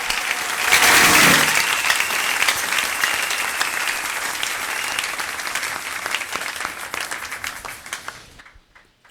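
Congregation in a church applauding a departing deacon: dense, sustained clapping from a crowd that peaks early, then slowly thins and fades out near the end.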